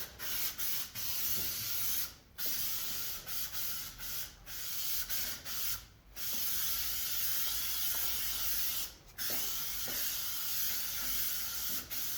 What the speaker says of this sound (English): let's spray some of that quick check and look down the panel